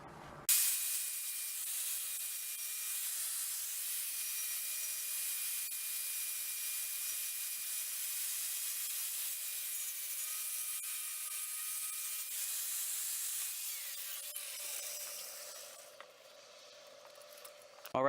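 Power grinder working a metal mask shell, trimming high spots down to a marked line: a steady, close, bright abrasive whine held for about fifteen seconds before winding down, with no talking.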